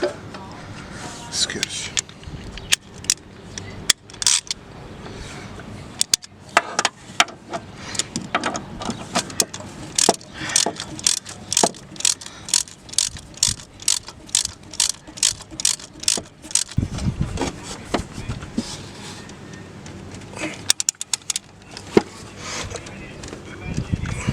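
Ratchet with a 14 mm socket clicking on an Opel Astra H engine during timing belt work, rapid bursts of sharp mechanical clicks repeating through the clip with speech-like sounds in between.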